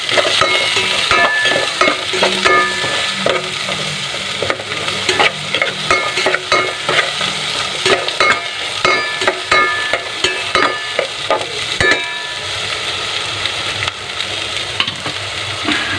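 Onions stirred as they fry in a pan for a bangus (milkfish) dish: a steady loud sizzle with repeated scraping strokes of the spatula, close up and continuous, with no talking.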